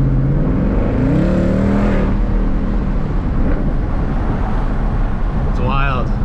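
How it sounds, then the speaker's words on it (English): A Stage 3 Roush Mustang V8 engine rumbles and revs loudly from close by, its deep exhaust note rising and falling, with a voice speaking over the start. "let me roll down the window so you guys can just appreciate this exhaust note"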